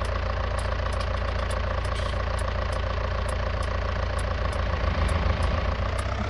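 A tractor engine in a farming video game drones steadily and loudly while baling, keeping a constant low rumble with a faint rhythmic ticking throughout and no talk.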